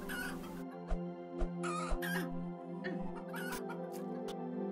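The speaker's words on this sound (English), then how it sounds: "Chicken that casts fireball when he dies" Chicken from the game Planet Centauri clucking in a few short, sharp bursts over a steady tonal music bed, close and fairly clear, with no one talking.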